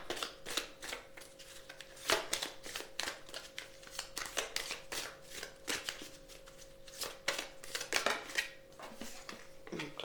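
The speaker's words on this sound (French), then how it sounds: "Je vais mettre 2 cartes." Heart-shaped oracle cards are shuffled and laid out on a table, soft rapid flicks and slaps of card stock in irregular bursts, close and quiet, with no talking.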